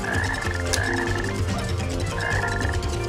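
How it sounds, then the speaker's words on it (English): A black frog in the video game Sonic Heroes croaks repeatedly in a quick, steady rhythm, loud and close over continuous game background sound. "It's a black frog."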